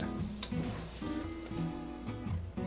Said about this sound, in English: continue stirring on medium heat, gas mark 3 out of 6, until the marshmallows are melted